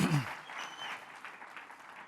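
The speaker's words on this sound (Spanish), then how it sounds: "Démosle un aplauso al Señor, hermano, si podemos hacerlo todavía." A church congregation applauds in a soft, diffuse patter for about two seconds, heard at a distance and fairly faint, after a brief low vocal sound at the start.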